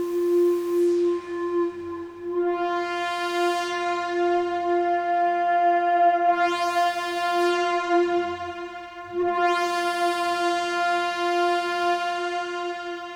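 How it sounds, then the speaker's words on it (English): IK Multimedia Uno Synth Pro playing a sustained harmonic tone through its 2-pole low pass filter, with slow sweeps opening and closing the brightness in repeating waves, steady and close with no talk. "low pass, and it sounds like this."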